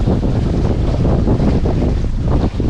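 Wind roars steadily across the microphone on an engineless sailboat cruising the Balearics, with the slosh and hiss of water against the hull blending beneath it in an unbroken, close, loud wash, no one speaking.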